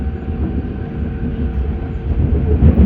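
An Auckland Transport AM class electric train runs on rails between Waitematā and Ōtāhuhu, New Zealand, heard from on board as a steady low rumble of wheels and motors with faint rhythmic clatter throughout, and no voices.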